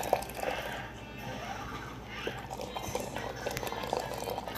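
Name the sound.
water boiling for coffee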